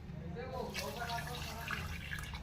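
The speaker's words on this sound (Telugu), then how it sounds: "ఇప్పుడు ఒక చెంబుడంత లోటడంత వాటర్ పోసుకోండి" Water is poured into a cooking pot for mutton paya, a steady faint splashing and trickling that runs under a person talking.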